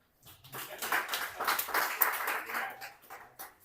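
An audience at a sales and communication skills training session breaks into a short burst of clapping that rises quickly, holds for a few seconds and then tapers off.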